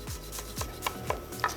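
A knife strikes a chopping board in a steady series of sharp, close thuds while garlic is chopped as finely as possible, and no voices are heard.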